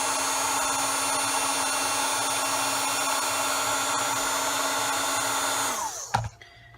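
A heat tool blows with a steady, loud whirring hiss while embossing powder melts on beads, running continuously before cutting off near the end with a brief clunk.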